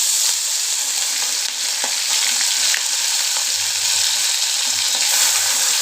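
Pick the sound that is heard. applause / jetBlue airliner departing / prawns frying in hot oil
prawns frying in hot oil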